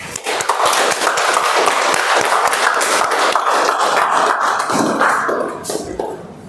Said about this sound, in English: Let's start with a clap.